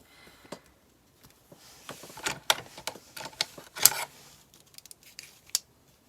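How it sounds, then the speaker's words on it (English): A small dollar-store craft knife cuts through paper for a no-sew mini journal, giving sparse crisp scraping strokes and taps, close and fairly loud, separated by short quiet pauses. "I'm going to use my cutting tool so I can do both at once"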